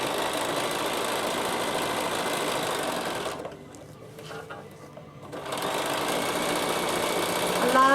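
Sewing machine running a satin stitch on appliqué, a steady fast mechanical whir that stops for about two seconds mid-way and then resumes, with faint talking during the pause.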